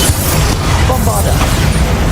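Bombarda explosion spell in Hogwarts Legacy combat on PC, a loud, rumbling blast followed by a crackling burst of debris, with a voice talking over part of it.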